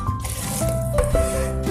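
Boiling water poured into a pot of sprouted moth bean curry, a continuous close liquid gush with squishy bubbling and a rising filling tone over under two seconds.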